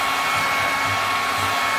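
Hair dryer blowing hot air onto an HPI RC car body, a steady, close, continuous whooshing roar that holds level throughout with no talking.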